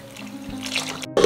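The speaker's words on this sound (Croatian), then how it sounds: "Nalit ćemo zatim vodu do vrha" Water pours from a tap into a cooking pot of vegetables and potatoes, a steady filling gush that ends with a brief clatter.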